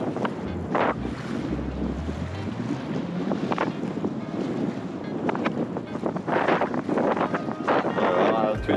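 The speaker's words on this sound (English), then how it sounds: "Alright, windy, windy, windy." Strong wind buffets a microphone on the shore of Botany Bay, Sydney, during land-based fishing, a steady low roar with rumbling gusts that grow louder toward the end, mixed with splashing water and occasional voice sounds.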